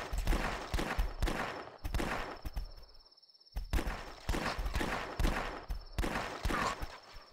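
Zombie-shooting gunfire in The Last Stand flash game, heard as rapid, close repeated shots in rhythmic bursts with a brief silent gap partway through and a thin steady tone running across.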